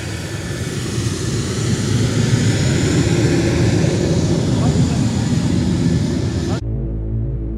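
A loud, steady roar of F-4E 2020 jet engines fills the scene during a military air exercise, a constant rumbling drone that cuts off abruptly near the end.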